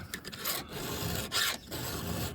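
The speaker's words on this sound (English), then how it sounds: "If your filing's not there, just keep filing." A hand file rasps against a Husqvarna 394xp chainsaw chain, close and fairly quiet, a short run of scraping strokes with a brief pause between them.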